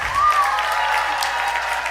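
Audience applauding at a university graduation ceremony, a steady wash of clapping filling the whole moment at moderate loudness, with a faint voice briefly rising above it near the start.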